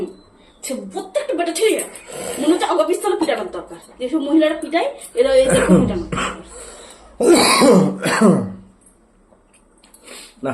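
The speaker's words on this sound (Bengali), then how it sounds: "কাশি হচ্ছে গো" A person talks with repeated harsh coughs and throat clearing breaking in, loud and close, in several bursts across the clip.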